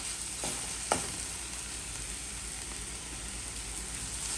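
Curry masala sizzling in a pan as chopped boiled eggs go in, a steady close hiss of frying with a brief clatter near the start.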